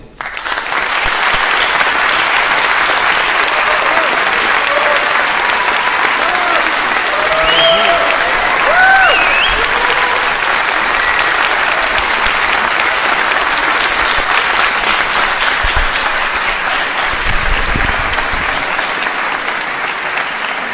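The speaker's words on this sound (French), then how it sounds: "je vous propose d'accueillir sous applaudissements Monsieur Joe Dante" Audience at a science-fiction film festival in Martigues applauding the arrival of director Joe Dante, a loud, dense, sustained ovation from a full hall with scattered voices and whoops mixed in.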